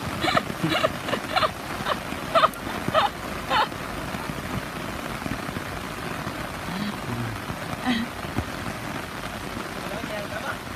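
Rain pelts down at a seaside island in Hainan, a dense steady patter with scattered nearby drops tapping on a surface, under some voices.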